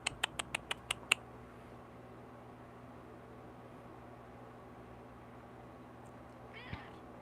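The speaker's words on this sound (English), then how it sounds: "Trying to push the cat back." A cat gives a brief, faint meow near the end, after a quick run of sharp clicking taps at the start, in an otherwise quiet room.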